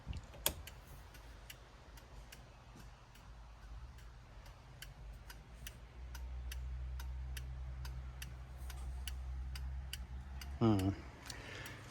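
A Novita LF12 turn signal flasher clicks in a quiet room, an even train of sharp, fairly faint ticks repeating about twice per second. A low hum joins partway through, and a brief whine sounds near the end.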